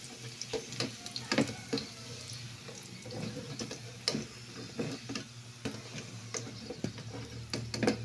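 Squid balls frying in a pan, a steady soft sizzle with scattered pops and crackles spread across the whole stretch, close and fairly quiet.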